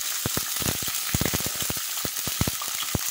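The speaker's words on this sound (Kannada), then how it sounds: "ಇವಾಗ ಕಟ್ ಮಾಡಿಟ್ಕೊಂಡ ಬದನೆಕಾಯಿಯನ್ನು ಹಾಕ್ತಾ ಇದ್ದೇನೆ" Cut brinjal pieces dropped into a hot frying pan, giving a steady close sizzle of oil with a run of sharp crackling pops and spatters across the whole stretch.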